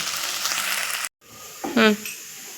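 Fenugreek leaves (methi) sauté in a pan with a close, loud hiss that cuts off abruptly, then returns as a quieter sizzle with a brief rising squeal.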